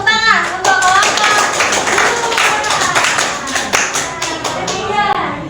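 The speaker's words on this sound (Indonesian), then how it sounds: "tepuk tangan untuk Oka" Hands clap together for someone named Oka at a university community-service student event, a loud, dense patter of applause that carries on steadily with children's voices mixed in.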